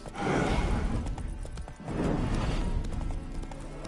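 Horse hooves clip-clop steadily in The Witcher 3, a close, continuous trotting rhythm with a brief dip midway, with no talk over it.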